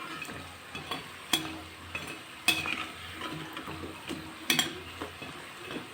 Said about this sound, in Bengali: এটা কমসে কম 10 থেকে 12 মিনিট আমি লো ফ্লেমে রেখে ভেজে নেব।